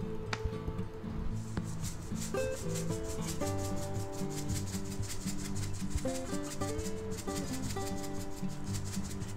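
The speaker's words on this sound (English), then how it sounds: "Make sure you coat it good with the kosher salt. Pat it in." Coarse kosher salt being rubbed and patted by hand onto a raw chuck roast for a dry brine, a steady soft rubbing texture running under a louder bed of background music.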